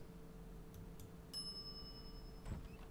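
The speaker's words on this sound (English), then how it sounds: "some idiot's already ringing that stupid bell" A service bell at a shop counter in The Secret of Monkey Island rings once with a bright, lingering metallic ding over a quiet, low-humming background.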